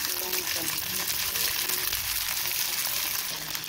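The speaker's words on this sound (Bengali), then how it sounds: "তেলটা গরম হয়ে গেছে, এবার আমি দিয়ে দিব পেঁয়াজ। এবার দিয়ে দিব লঙ্কা।" Onions and chillies fry in hot oil in a pan, giving a steady, dense crackling sizzle that carries on close and even throughout.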